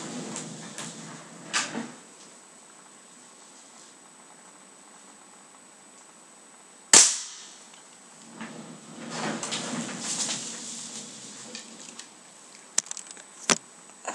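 A Double Eagle M48 G36 airsoft rifle fires a couple of sharp, isolated snaps from about ten meters away, separated by long stretches of quiet background with some faint handling rustle.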